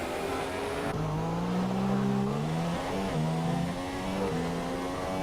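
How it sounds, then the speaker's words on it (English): A Renault race car on a fast lap at Bahrain, its engine droning loud and steady, rising and falling in pitch through gear changes and corners, heard alone without voices. "Lucas on a fast lap in the Renault."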